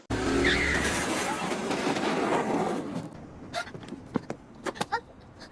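In a Japanese drama traffic accident, a motorcycle skids with a loud, rough, screeching rush for a few seconds, followed by scattered sharp clatters and knocks as things hit the road.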